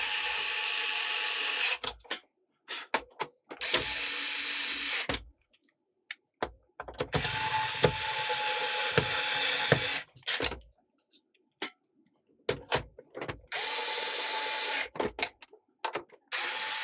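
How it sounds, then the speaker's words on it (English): A power screwdriver drives screws while a Sega Mega Drive console is reassembled, with repeated bursts of whirring several seconds long separated by quiet gaps and short clicks, close and fairly loud. "I've only got to put these screws in"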